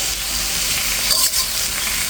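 Pieces of pointed gourd (potol) sizzle steadily in hot oil in a pan, a loud, even frying hiss with a faint stir or shift midway, no voices.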